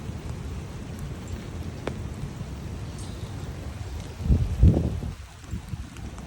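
Heavy rain falls in Gainesville, a steady wash of water noise with a louder surge of splashing near the end.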